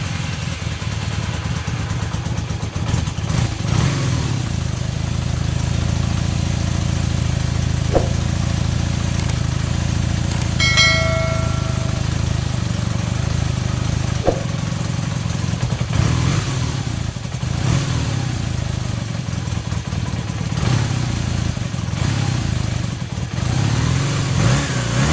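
A cold motorcycle engine idles steadily without its choke, a loud continuous low rumble with a slightly uneven beat and occasional faint knocks, running on its own the whole time.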